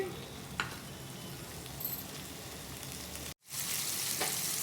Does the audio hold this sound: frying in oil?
yes